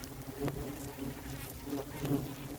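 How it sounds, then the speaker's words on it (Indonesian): Stingless bees buzz during a honey harvest from a lanceng colony in Java. A close, continuous droning hum rises and falls as insects fly near, with no talking. "Proses pemanenan lebah lanceng, lebah tanpa sengat ya."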